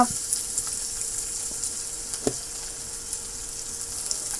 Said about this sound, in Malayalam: കടുക് പൊട്ടി അതിനകത്തോട്ട് നമ്മൾ ഉള്ളി ഇടുകയാണ് മൂപ്പിക്കാൻ